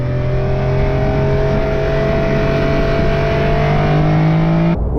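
Bright yellow Porsche 911 Carrera 4S of the 992 generation driving on twisty roads, its engine droning loudly and steadily with a slowly climbing pitch, cut off abruptly near the end, no talk.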